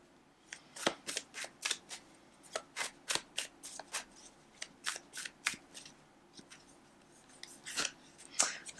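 Tarot cards are shuffled and drawn, producing a rapid series of crisp, close paper snaps and slides in a quick, uneven rhythm against a quiet background.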